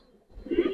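A Giribaz pigeon gives a short, low coo that swells up near the end of a brief moment, close and moderately loud, alone.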